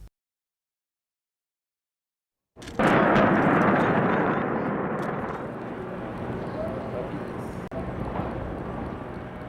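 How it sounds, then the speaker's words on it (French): A dynamite blast of more than 100 kg in a mine pit, heard after a silent pause as a sudden loud boom that rolls into a long, thick rumble and slowly fades. "nous nous apprêtons à faire exploser plus de 100 kg de dynamite"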